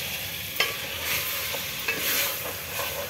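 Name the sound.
stirring the chicken tahari mixture in the pan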